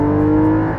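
A Porsche Cayman GT4 engine hums steadily at gentle cruising revs from inside the car, with a smooth, close, even tone and no speech.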